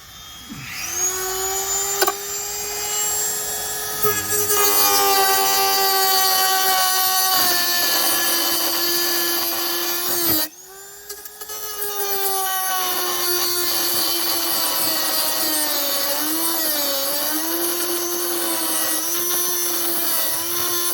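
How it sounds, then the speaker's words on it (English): A Dremel rotary tool cuts out a metal ring while fitting fog lights to a Hummer H2, giving a steady high-pitched whine that runs almost continuously, pauses briefly, then resumes close by. "Now I'm gonna cut these out again with the Dremel tool."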